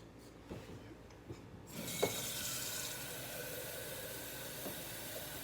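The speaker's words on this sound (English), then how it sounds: "I'm just filling my beaker here." Tap water runs and splashes steadily into a beaker while weighing water for sourdough bread, starting after a faint clicking lead-in and continuing softly and evenly.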